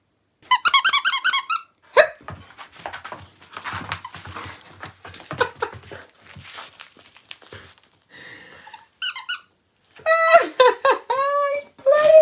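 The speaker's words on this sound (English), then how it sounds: "Where's the squeak?" A squeaky dog toy is squeezed in quick repeated bursts while a dog plays with it inside a VW LT35 camper van. Several squeak runs are separated by gaps and lively talking nearby.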